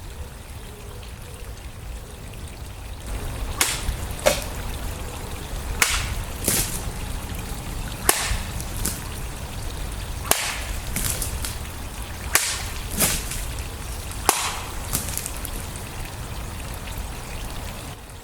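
A Chinese cavalry dao sword slices through a plastic milk bottle in a series of sharp, swishing whips and crisp cuts, about half a dozen strikes spread unevenly over a quiet outdoor background.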